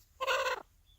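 A stuck, distressed chicken lets out a single short, strained squawk of about half a second, close and clear against a quiet background.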